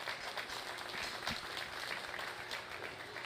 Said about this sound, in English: let's give all these division winners a round of applause